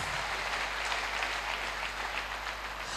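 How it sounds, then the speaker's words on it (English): Church congregation applauding at a worship service, heard as a continuous, even roar of many hands clapping over a low steady hum, sustained and moderately loud without speech. "Clap for Jesus Christ."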